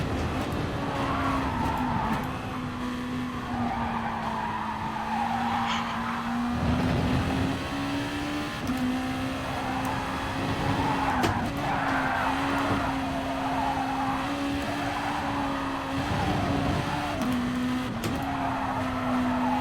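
Race car in the video game Gran Turismo Sport, with a steady engine drone and repeated loud tire squeals and skids in bursts as the car slides through corners.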